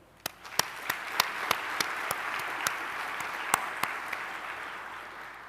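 Audience applause at a university graduation ceremony in Gqeberha fills a hall, a steady wash of many clapping hands with a few sharp individual claps standing out, fading slightly toward the end.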